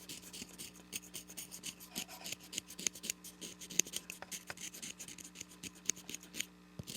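The tip of a cane oboe reed being scraped with a blade, heard as soft, quick, close scratching strokes in an irregular rhythm, faint and without speech.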